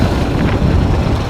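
A 420cc gas golf cart engine approaches with a loud, steady low rumble mixed with wind buffeting, continuous and fairly close throughout.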